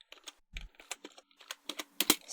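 Keys clacking on a computer keyboard at a system shell, a quick run of close, crisp taps with a brief low thump near the start, no voices.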